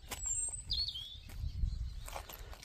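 Wild birds chirping around garden feeders on a sunny spring day, with a few thin, high tweets and a brief whistled call over a low outdoor rumble.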